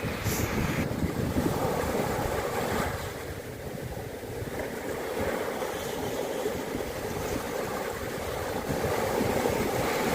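Sea waves wash continuously onto Kannur beach in south Kerala at sunset, a steady broad rush of surf with wind buffeting the microphone and no voices.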